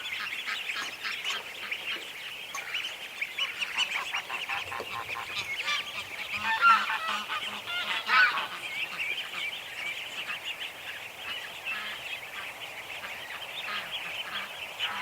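A flock of farm ducks quacks and honks continuously and loudly outdoors, many overlapping calls in a busy, steady chorus.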